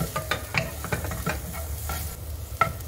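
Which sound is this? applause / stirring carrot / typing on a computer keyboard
stirring carrot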